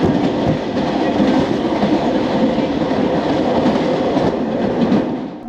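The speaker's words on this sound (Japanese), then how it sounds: "この駅で区間快速は特急ソニックに道を譲って先に行ってもらいます" The Sonic limited express train roars past a station platform in Kyushu, a loud, close, continuous rumble of wheels and rushing air that holds steady for several seconds before easing off, with no talk.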